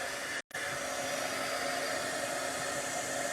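A heat tool blows hot air over puff paint on cardstock, a steady, close whooshing hiss that cuts out for a split second near the start and then runs on without a break.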